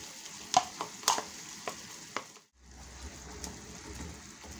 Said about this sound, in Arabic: هنايا غادي نزيد هذاك الشامبينيون باش يلا يتشحى لي مع القامه